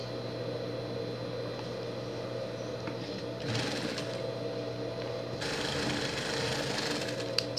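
A sewing machine stitches a Minions-themed pet costume, a steady close mechanical whir running throughout and swelling into louder, busier bursts of stitching toward the middle and end.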